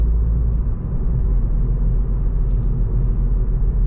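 A 265-horsepower Volkswagen Scirocco R pulls away in automatic mode, heard from inside as a loud, deep, steady engine rumble and road drone with a faint high squeak partway through.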